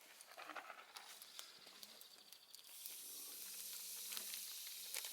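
Rib steak and potatoes sizzle steadily in a frying pan at an ATV campsite, a constant crackling hiss that grows louder and denser partway through, with no talking.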